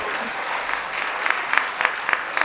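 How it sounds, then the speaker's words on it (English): Applause at a recognition event for researchers: a moderate, even patter of audience clapping with a few sharper claps standing out. "You are not clapping because Abby is not standing up."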